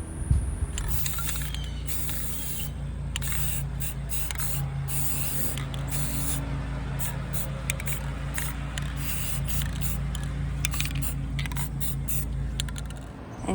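An aerosol can of sealer sprays in long continuous hissing bursts over porch decor, loud and close, broken by brief pauses and soft clicks of the nozzle, with no talking.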